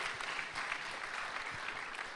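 A church congregation applauds during a worship service, a dense, steady wash of clapping from many hands that holds for the whole stretch at a moderate, room-filling level with no talk over it.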